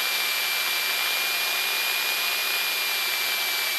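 A small airplane's piston engine during a ground run-up at 1800 RPM for a magneto check, a loud, steady droning roar with a high tonal whine, heard close and unbroken.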